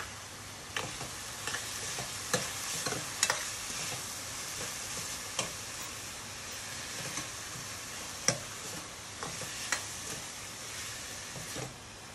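Chopped capsicum frying in a pan for pav bhaji, a soft continuous sizzle with regular ticking scrapes and clinks of a spoon stirring, fairly quiet and without any voices.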